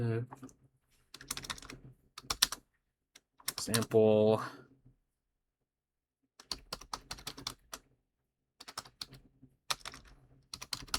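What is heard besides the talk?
typing on a computer keyboard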